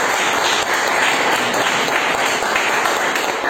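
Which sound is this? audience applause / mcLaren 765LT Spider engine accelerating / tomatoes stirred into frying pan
audience applause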